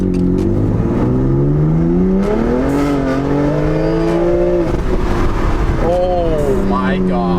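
A car in sport mode accelerates hard, its engine note climbing steeply through rising harmonics, dipping briefly at a shift, then pulling up again, loud and close from inside the cabin. There is talk in the car alongside the engine.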